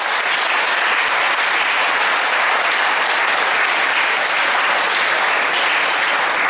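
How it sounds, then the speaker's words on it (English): An audience at an expert talk by an English department head at Banaras Hindu University breaks into continuous, even applause, a dense wash of clapping that holds steady throughout without any talking. "So please clap for them."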